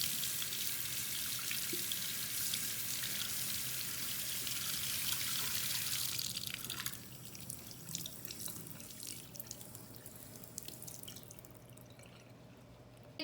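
Running tap water splashes over an egg that had been soaked in vinegar, a strong rush of water for several seconds that then eases to a softer trickle and drips.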